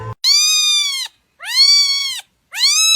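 Three loud, close cat meows, each a drawn-out rising-then-falling cry with short silences between, used as a sound effect in a Chinese audio drama about a frightened cat being washed.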